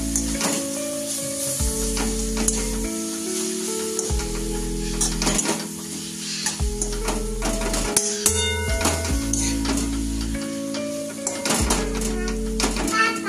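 Fenugreek leaves being stirred with a spoon in a hot pan, a steady sizzle of frying under repeated scraping and clinking of the spoon against metal, close up, with background music playing throughout.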